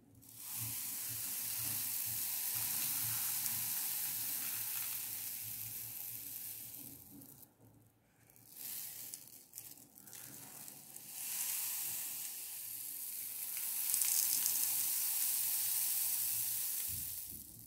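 A rain stick filled with bulgur gives a steady granular hiss, like fine grains pouring and sliding inside a tube, soft and continuous with a few brief dips and swells.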